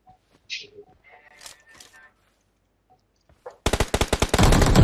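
Video-game gunfire opens up after a few quiet voices, then breaks into a loud, rapid automatic burst of shots that runs to the end.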